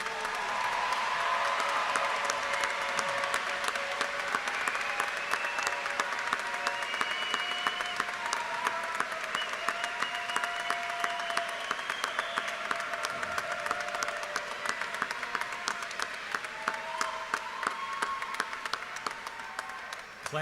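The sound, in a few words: audience applause for graduating students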